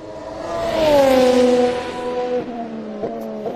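Formula 1 cars at Barcelona pre-season testing roar through a corner and up a hill, one loud passing whine sweeping down in pitch, followed by further engine notes shifting as more cars come through.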